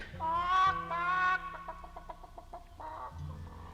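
Comic sound effect of chickens clucking in a chicken coop: a loud, drawn-out squawk, then a quick run of short clucks and another squawking burst, close and alone.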